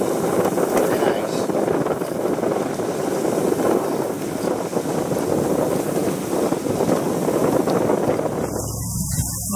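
Steady broadband wind rush and water noise aboard the sailboat Wassail, cruising at about 6 knots in a 13 mph northwesterly during a Pacific Northwest summer cruise, continuous and close to the microphone.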